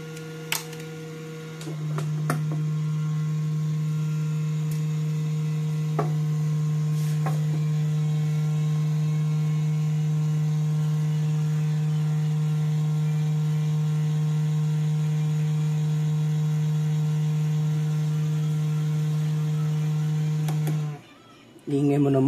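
Close, steady whir and hum from a loud blower fan in a Peavey powered audio mixer being reconditioned, with a few clicks and taps over it before the drone cuts out briefly near the end.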